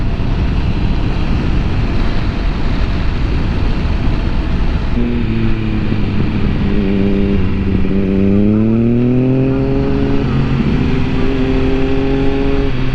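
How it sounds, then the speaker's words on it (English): A car engine approaches and passes close by, its pitch rising and sliding down as it goes, over steady road and traffic noise. "Car coming."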